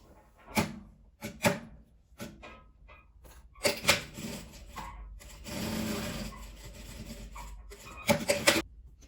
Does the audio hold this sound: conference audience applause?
no